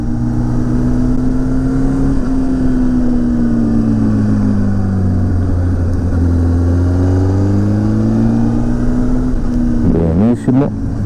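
A car engine drones steadily and loud throughout, its pitch slowly rising and falling as it pulls hard on a road in Veneto, with a brief shift near the end.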